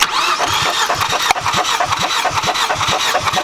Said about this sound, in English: make sure the car's in neutral and crank it and don't stop